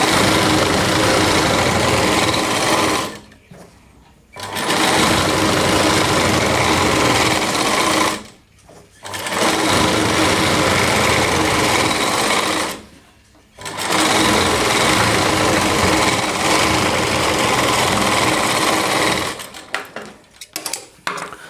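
A sewing machine runs steadily while joining the flared panels of a Rajputi lehenga, whirring in three long bursts with brief pauses between them, close and fairly loud with no talking.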